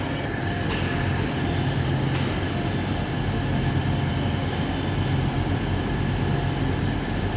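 Lumo train standing at a station platform, a steady, loud rumbling hum of the train's engines and equipment that holds constant throughout with no talking.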